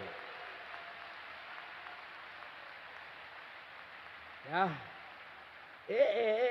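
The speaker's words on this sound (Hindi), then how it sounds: "बजाओ ताली जोर से मनीष के लिए।" A festival crowd at a Jain religious celebration in Indore claps steadily, a soft, distant patter of applause that fades out before a voice speaks over the sound system.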